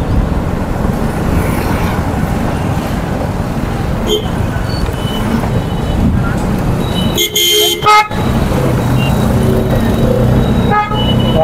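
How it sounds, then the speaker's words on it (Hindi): Dense city traffic in Hoshiarpur streams past with engines rumbling and several short car horn toots cutting through, heard close and loud without a break. "ऐसे होता है जी यहाँ पे ट्रैफिक तो थोड़ा रहता ही है पर तो जाम भी तकड़ा रहता है"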